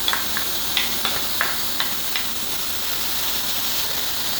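Ginger garlic paste sautéing in a pan for Kerala-style chicken thoran, a steady bright sizzle with a few soft stirring clinks near the start, no voices.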